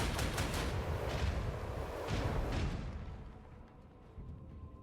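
Gunfire in the game Warhammer 40K Rogue Trader: a rapid string of sharp, booming shots with rumbling tails, followed by a quieter, fading echo and a final softer thud.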